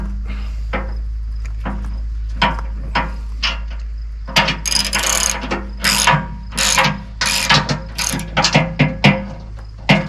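A ratchet wrench tightening the bolts on bolt-on bucket hooks for a Kubota LX2610 compact tractor: bursts of rapid clicking strokes, sparse at first and then quicker and louder, over a low steady hum, with no talking.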